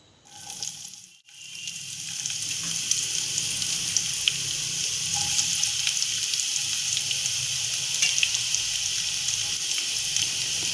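Chopped onion, prepared earlier for chana masala, frying in a pan: a steady, close hiss of sizzling that carries on unbroken after a brief pause near the start.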